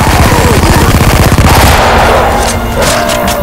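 Rapid automatic gunfire mowing down zombies in a video game, a dense, continuous rattle of close, loud shots for several seconds, thinning slightly toward the end.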